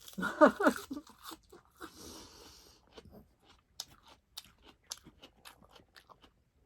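Someone chews food at close range while eating a Thai spicy salad with Japanese shrimp and fresh salmon, with crunchy bites early on, then quieter, intermittent munching and a few soft mouth sounds.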